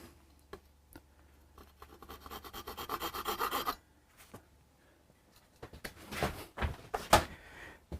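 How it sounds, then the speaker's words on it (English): A razor saw rasps in quick back-and-forth strokes on a Hofner Galaxie guitar at a luthier's bench. Faint ticks come first, then a steady close run of sawing, and a few louder scrapes and knocks follow. "Good old razor saw."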